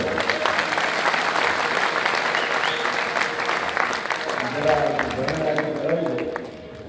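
Steady audience applause from a crowd at a live stage event in Leicester, dense continuous clapping that fills the space and tapers slightly near the end, with voices mixed underneath.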